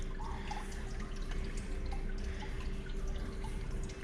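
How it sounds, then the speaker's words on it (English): Coolant dripping and trickling from a Ford Fiesta 1.3 petrol thermostat housing, a steady wet patter of small drops under a constant low hum. "It's going to leak a little coolant, but it's not much."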